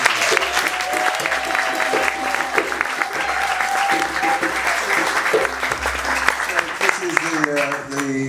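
Applause from an audience at a book launch fills the room in a steady, loud wash, with voices talking underneath and speech emerging clearly near the end.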